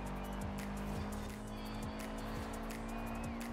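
A car engine in the Forza Horizon 4 racing game, played with a Logitech G29 wheel, drones steadily with harmonic revs while faint tire squeal and repeated shifting pulses run throughout, loud and continuous.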